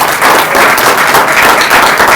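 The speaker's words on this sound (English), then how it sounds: "Let's clap him up." Loud, dense crowd applause fills a Newark press conference, with steady continuous clapping close by and no talk over it.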